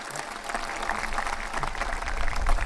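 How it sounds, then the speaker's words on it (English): Steady applause from a sizeable crowd at a high school graduation ceremony, dense clapping that holds throughout and swells slightly toward the end. "You can clap again"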